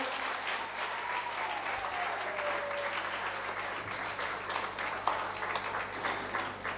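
A church congregation claps and cheers in praise at a Christian service, a dense sustained wave of applause filling the hall for several seconds, with a faint voice rising briefly underneath.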